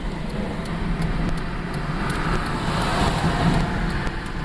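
A 2001 Ford Mustang with a 3.8 engine misfiring and shaking in fourth gear around 1200 RPM, a steady low rumbling drone heard from inside the car, dull and uneven without clear individual beats.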